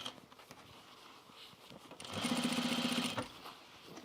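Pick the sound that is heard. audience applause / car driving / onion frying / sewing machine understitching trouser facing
sewing machine understitching trouser facing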